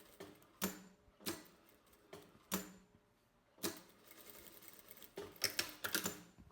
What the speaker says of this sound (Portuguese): vou costurar a manga em toda a parte curva aqui do nosso sobretudo